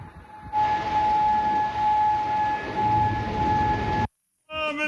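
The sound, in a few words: air raid siren in Kuwait City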